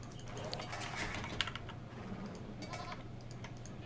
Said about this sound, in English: oh, there's some goats